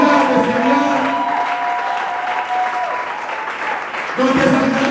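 A church congregation cheers and applauds loudly for the Lord, a steady, dense wash of clapping and voices that swells again near the end, with sustained shouting over it.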